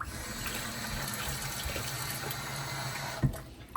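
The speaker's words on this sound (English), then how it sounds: "give me a cup so we can get some water" Hot water gushes steadily into a cup beside an outdoor cooking fire, a continuous close splashing pour that ends with a sharp clink near the finish.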